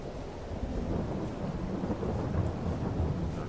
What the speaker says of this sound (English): that rain's not giving up at all, is it?